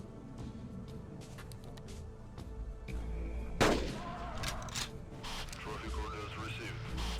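A single loud gunshot cracks midway through, fired at an ornate stegosaurus in the Carnivores hunting game, standing out sharply against steady game ambience.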